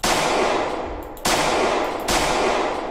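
Guns firing in the zombie survival game Project Zomboid, three loud blasts spaced about a second apart, each one ringing out into a long, slowly fading wash of noise.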